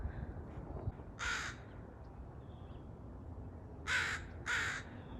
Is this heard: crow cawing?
yes